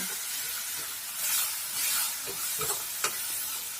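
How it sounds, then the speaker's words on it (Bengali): Prawns sizzle and fry in a pan for a chingri masala, a steady broadband hiss with a few soft stirring scrapes and clicks near the end, close and continuous with no talking. "ভালো করে ভেজে নেব"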